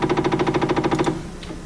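A CNC machine moving slowly along its Y axis, its stepper motor giving a steady buzzing hum pulsed in a fast even rhythm, close and clear, then stopping abruptly and leaving quiet room noise.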